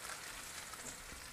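Squash and onions frying in about half a cup of oil in a pan, a steady soft crackling sizzle with scattered pops, continuous and fairly quiet, with no talk over it.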